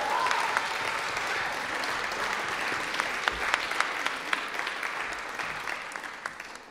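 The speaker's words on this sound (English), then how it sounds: "Can we give Cole a big old round of applause?" Audience applause at an arts awards ceremony, a steady, full round of clapping from a large crowd lasting throughout, with a few sharper claps standing out near the end.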